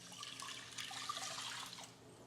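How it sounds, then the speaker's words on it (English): Two cups of water are poured into a pot for cooking millet, a soft continuous splashing trickle, quiet and close, lasting a couple of seconds. "I'm gonna go ahead and pour 2 cups of water"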